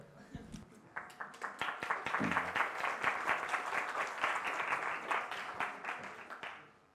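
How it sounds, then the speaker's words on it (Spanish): Applause from an audience at a design talk: scattered claps build into dense, continuous clapping heard at a moderate distance, then taper off near the end. "Aplauso por la tele"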